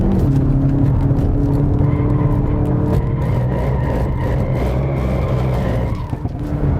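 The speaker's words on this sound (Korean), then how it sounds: "저는 M 모드에서의 이 배기 사운드는 이 고 RPM보다 저 RPM에서 그 약간 좀 웅웅대는 소리 있잖아요." A 2019 Hyundai Veloster N Performance in M mode drones loud and steady through its exhaust while driving, with a deep, throbbing low rumble that runs continuously throughout.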